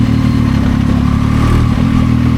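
A Zontes 703F motorcycle engine idles close by in sixth gear with a steady, low, even rumble that keeps running without revving.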